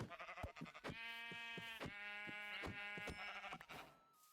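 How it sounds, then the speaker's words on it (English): A sheep in the video game Minecraft bleats one long, wavering, close and clear bleat that fades out at the end. "good to know there's at least sheep immediately nearby"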